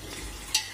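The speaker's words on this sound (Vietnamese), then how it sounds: "mình bỏ vô nồi để mình tao cho thịt nó săn nè mọi người" Pork sears in a hot pot for Vietnamese braised pork with duck eggs, giving a soft, steady sizzle and a short clink of stirring.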